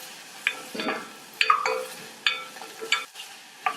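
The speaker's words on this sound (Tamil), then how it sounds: "எல்லாத்தையும் லைட்டாக வதக்கிட்டு" Dried red chilies, crushed garlic and chopped tomato sautéing in a pan for a greens soup, with a few sharp spatula scrapes and stirs over a light sizzle, close by and with no talking.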